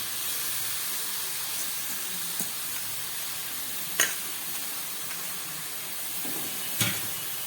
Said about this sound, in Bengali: এবারে এই কেটে রাখা ছোলার শাকগুলো আমি দিয়ে দিচ্ছি।